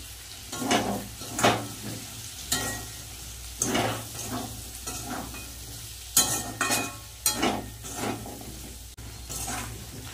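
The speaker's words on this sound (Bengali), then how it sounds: "আলুটা দিয়ে ভালো করে এবার মশলাটা কষিয়ে নেব।" Potatoes stirred into spice masala in a hot pan with fresh green chillies, frying steadily under repeated scraping strokes of a spoon against the pan, close and fairly loud, no talking.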